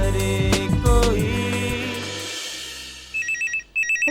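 Telephone ringing in a Hindi TV drama household scene, heard as repeated electronic ring bursts near the end after a fading musical passage.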